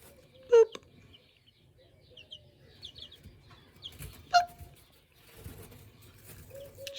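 Chickens cluck and call in a backyard flock with a young rooster among them, sharp isolated calls and softer murmuring clucks at close range, with quiet rustling between.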